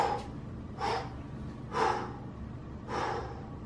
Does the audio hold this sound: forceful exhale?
yes